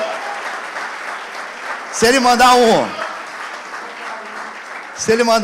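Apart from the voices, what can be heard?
church congregation applauding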